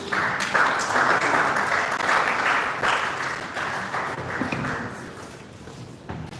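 An audience applauds at a live mental health awareness event as an engineer is welcomed up to the stage, sustained, dense clapping that swells early and slowly fades, with occasional thuds.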